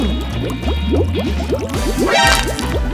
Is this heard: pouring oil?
yes